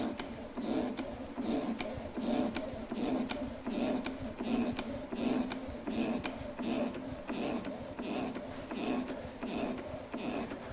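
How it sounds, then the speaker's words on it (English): A black hand pump handle being worked to lift a gas cylinder on a counterbalance cylinder lifting and rotating rig, giving a steady rhythmic mechanical clicking and creaking about twice a second, close and fairly quiet. "We then need to lift the cylinder, so we do this by pumping this black pump handle."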